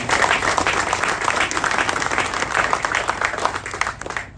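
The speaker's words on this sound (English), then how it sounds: "How about a round of applause for that?" Crowd at a university athletics facilities groundbreaking press conference applauding, a dense, loud wash of clapping that holds steady throughout and fades slightly at the end.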